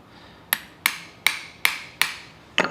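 Six crisp hammer blows ring on a copper coffee scoop being shaped by hand, evenly spaced metallic clinks with short bright decays, loud and close with no voices.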